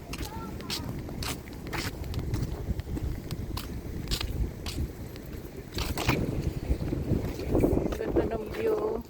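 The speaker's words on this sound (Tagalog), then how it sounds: "Mahangin." Gusty spring wind in Canada buffets the microphone in uneven bursts, with a low rumbling roar beneath and a few faint voices.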